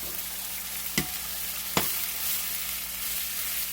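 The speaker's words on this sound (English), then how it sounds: "we're going to drop the onion in there as well. And just let everything cook." Onion and steak meat fry in a pan with a steady, close hiss, broken by two sharp knocks of a utensil against the pan.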